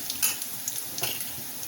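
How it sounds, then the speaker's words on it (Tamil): Onions sauté in a pan with a brisk sizzle and a few scraping stirs, close and brief, with no talking. "வெங்காயத்தை நல்லா வதச்சாச்சு."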